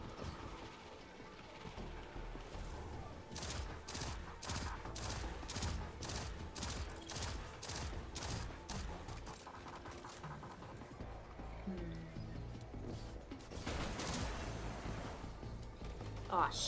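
Rapid bursts of gunfire ring out during a Destiny 2 firefight, dense volleys of shots stacking over a steady game soundscape, loud and continuous for most of the stretch.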